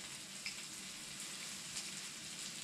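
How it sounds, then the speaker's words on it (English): Pike fillets fry in a pan with a steady, fairly close sizzle and faint crackling pops throughout, no voices. "So I hope you can hear that frying, and it is almost done."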